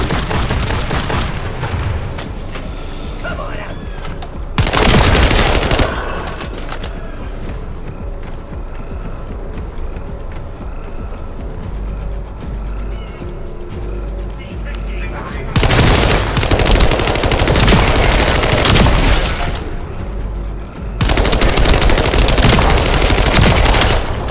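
Turret gunfire from The First Descendant, loud sustained automatic bursts that stop and restart in several long stretches, with rumbling booms and battle noise filling the gaps.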